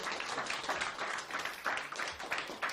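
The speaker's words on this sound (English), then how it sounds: "Big round of applause for Dan." A crowd applauds, a dense, continuous patter of clapping hands that carries through the whole moment.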